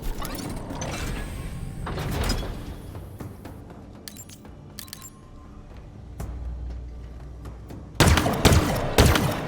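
Bursts of rapid turret fire from an enemy in Halo Infinite crackle through busy battle noise and mechanical clanks, with a loud, dense volley near the end.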